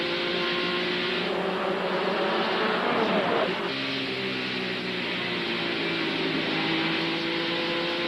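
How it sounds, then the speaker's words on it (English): On-board engine of Mark Martin's Winn-Dixie Ford Thunderbird race car at a 1993 stock car race, a loud, steady high-revving roar that swells and drops slightly in pitch mid-run, with no talk over it. "Riding along with Mark Martin inside the Winn-Dixie Ford"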